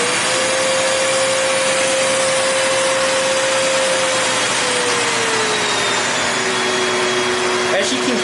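A Kenmore Pet Friendly lightweight bagged canister vacuum cleaner runs steadily with a loud, constant whooshing roar and a faint motor whine that shifts slightly in pitch.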